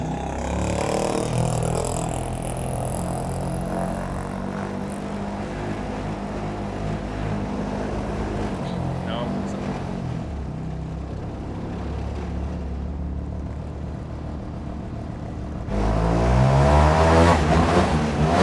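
A single-rotor engine swapped into a Mazda Miata with a hard top idles roughly with a low, steady drone, then surges into a louder, harsher rev near the end.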